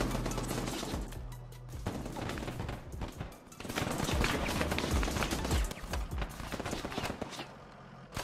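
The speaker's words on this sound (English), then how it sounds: "I hear shots left, too" Video game gunfire crackles in dense bursts of shots and machine-gun fire, loud and continuous, with brief lulls between volleys.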